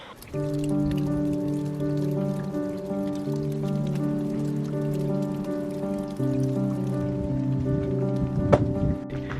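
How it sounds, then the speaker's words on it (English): Heavy rain drumming steadily on a surface outdoors on a small farm, a loud, continuous patter with a sustained low hum running beneath it. "today it's been raining, like a lot of rain"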